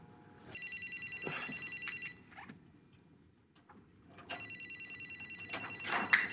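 A telephone bell rings in two bursts of rapid, evenly pulsed trills, loud and close, with a short quiet gap between them.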